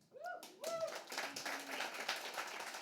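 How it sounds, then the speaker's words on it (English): A small audience at a security meetup claps for a member who just earned a certification, a modest burst of applause following a brief snatch of speech at the start. "We need to give him a big round of applause because he's just got his OSCP"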